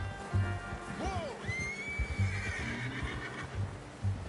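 In a video game, a horse gives one clear, rising and falling whinny at close range, set over soft, rhythmic hoof thuds and low background sound.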